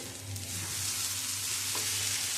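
Squash stirred and frying in a pan for a Bengali squash paturi, a steady close sizzle with soft scraping from the stirring, no voices.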